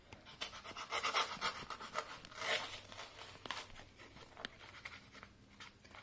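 A plaster ant formicarium edge is cut with a tool, giving close scraping and rasping strokes in irregular bursts, loudest early on, then lighter, sparser scratches with small knocks toward the end.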